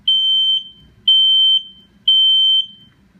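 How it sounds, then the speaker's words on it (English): A newly installed battery-operated smoke alarm gives three loud, shrill beeps, each about half a second long, spaced evenly a second apart, close by and alone. "Once I've put it in, you heard it beep."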